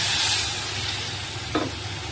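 Masala for a fish curry sizzles in a pan as a little water is added, a constant hiss that flares briefly in a short burst near the end, with no speech.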